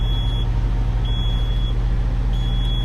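W9 low air pressure alarm in a Peterbilt truck cab, a high steady electronic beep sounding in long repeated tones over a loud, constant engine drone.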